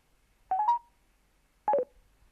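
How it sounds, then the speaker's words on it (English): Phone button on a PACKTALK Bold motorcycle intercom held for speed dial, giving two short electronic beep tones about a second apart, clean and close against near silence. "Press it for 2 seconds or until you hear the second beep for speed dial."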